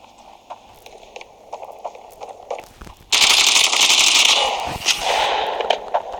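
Gunfire in Counter-Strike: scattered single shots and footsteps give way to a loud, sustained automatic burst that dominates the second half, close and harsh.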